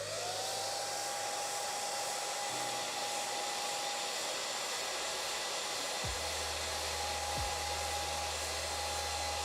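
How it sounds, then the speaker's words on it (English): Steady, loud whine of a worn-out hairdryer blowing hot air to dry paint on an E-X02 Sword Strike Gundam model kit, running continuously with slight shifts in pitch and no talking. "Just gonna get the hairdryer on this."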